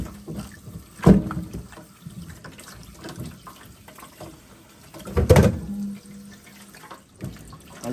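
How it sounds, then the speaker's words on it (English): Peeled yellow sweet potatoes get rinsed in water: two louder splashing sloshes stand out over a low, running wash of water nearby, with no voices. "now that we're finished peeling the potatoes, we are going to give them a second rinse"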